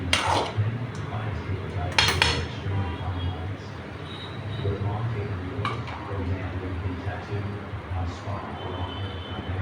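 Cooked potato in a pan being poked with a spoon, giving a few sharp metallic clinks against the pan, spaced seconds apart, while someone talks.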